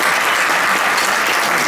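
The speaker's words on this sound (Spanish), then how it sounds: "un aplauso para España" Dense, loud applause from a concert audience fills the whole moment, steady and sustained with no voices standing out, at a live album presentation in Madrid.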